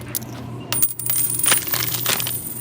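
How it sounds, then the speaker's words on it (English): Coins dropping out of a change machine at a coin laundromat in Los Angeles, a rapid clatter of metal coins landing in the tray, close and bright over a steady machine hum. "now let's get extra coins here"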